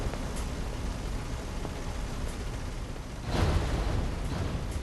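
Artillery shells burst in a tank video game, heard as a continuous rumbling, noisy roar with a heavier swell of booming near the end, no voices over it.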